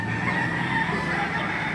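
Chickens at a cockfighting venue with a rooster crowing and fowl clucking, a steady dense layer of birds close by without speech.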